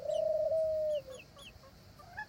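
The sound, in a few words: backyard birds: rooster and turtle dove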